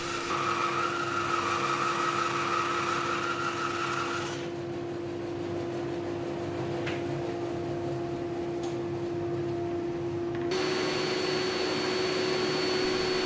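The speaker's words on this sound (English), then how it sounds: "A quick few passes under the planer to get rid of the bandsaw marks and to bring them into final thickness." A planer thicknesses very dense resawn hardwood boards, removing bandsaw marks. The motor gives a continuous whine that drops in tone partway through, then rises again near the end.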